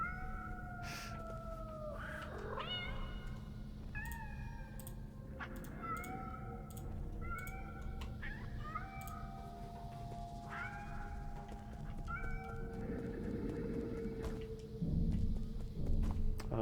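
Several cats meow repeatedly in the Nine Sols video game, overlapping cries at moderate level over a low background hum, with soft clicks near the end.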